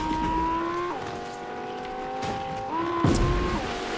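A Lamborghini Huracan in Fortnite drives close by, its engine note holding steady and then shifting pitch twice as the gears change, with a short tire squeal near the end.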